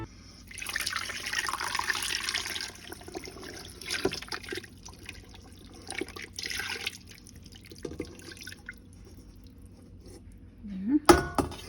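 Adobo marinade poured from a container over coated meat in a cooking pot, a wet splashing stream in the first few seconds, then scattered drips and light clinks against the pot before one louder knock at the end.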